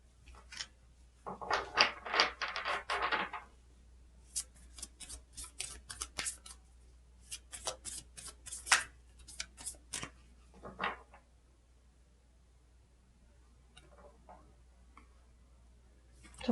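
Tarot cards are shuffled and drawn at close range in a quiet room, with a burst of riffling followed by scattered crisp snaps and light clicks.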